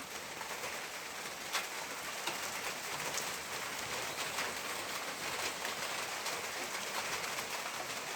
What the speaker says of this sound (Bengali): গুড়ি গুড়ি বৃষ্টি হচ্ছে